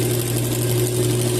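A sewing machine motor runs steadily at close range for a short stretch, giving a continuous even hum with no talk over it.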